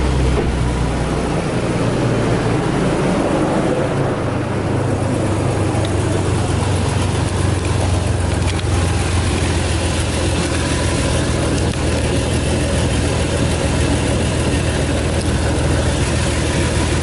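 A second-generation Toyota Tacoma idles steadily with an exhaust leak, a continuous low rumble close by with some rattly texture and no speech over it.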